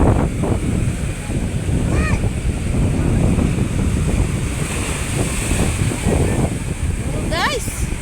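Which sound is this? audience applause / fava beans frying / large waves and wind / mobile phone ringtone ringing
large waves and wind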